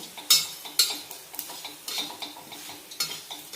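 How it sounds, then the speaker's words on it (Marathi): Whole spices, including black stone flower, peppercorns, cloves and bay leaf, are sautéed in a pan on low gas. Close, repeated scraping and clinking stir strokes sound over a faint sizzle. "थोडासा याचा कच्चापणा जाईपर्यंत आपल्याला परतून घ्यायचे स्लो गॅसवरच एकदम"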